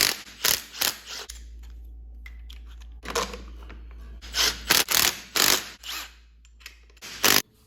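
Wrench working a 10 millimeter bolt loose on a TST Industry turn signal of a DRZ400SM motorcycle: a series of close ratcheting clicks and metallic scrapes in irregular bursts, with a low hum underneath.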